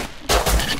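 A single loud close gunshot in Rust, a sudden sharp crack and boom that starts abruptly partway in and rings briefly.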